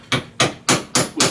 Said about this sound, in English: with my hammer